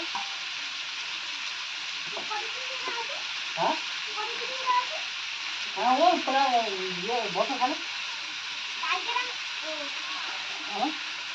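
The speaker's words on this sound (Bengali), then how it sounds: "আলুটা একটু ভাজা ভাজা হয়ে গেলে এই বেগুন দেবো" Potatoes fry in a pan with a steady, moderate hiss running throughout. Voices, including a child's, talk intermittently over the sizzle.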